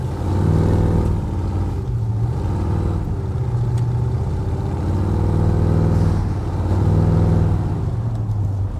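Lifted 1986 Chevrolet K5 Blazer 4x4 on off-road tires, its engine rumbling close and loud in a deep, steady burble that swells with a few revs and eases back between them.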